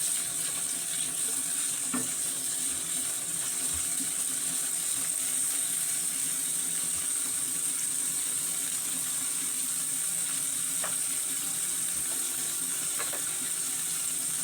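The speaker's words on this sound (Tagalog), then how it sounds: "Igisa lang natin ang karne hanggang sa mag-golden brown ito. Haluin lang natin ng haluin." Pork sautéing in a pan until golden brown, a steady, fairly quiet sizzle with a watery, hissing wash and a few faint clicks of a utensil stirring now and then.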